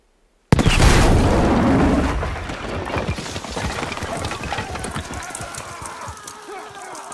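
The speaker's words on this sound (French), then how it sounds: "On va utiliser ce canon!" A single heavy boom of a cannon firing in the World War II shooter Battlefield V bursts out suddenly, then rolls into a long, rumbling decay with scattered crackles and debris-like clatter.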